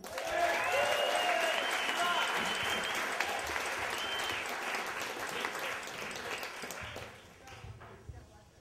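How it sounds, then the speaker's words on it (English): A live storytelling show audience gives a big, sustained round of applause with some cheering at the start, steady and full before tapering off near the end. "Give it a big round of applause, Nick Newlin."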